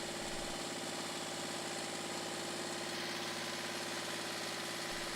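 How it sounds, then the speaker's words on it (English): A steady vintage tractor engine idles and chugs with an even, rapid knocking rhythm, loud and close, running continuously with no voices. "filling the air with classic engine sound and light exhaust smoke"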